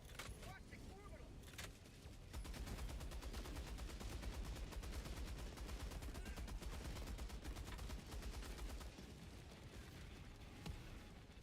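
Helldivers 2 combat with a steady barrage of rapid gunfire and booming blasts from an orbital strike, loud and continuous throughout, with voices talking over the noise.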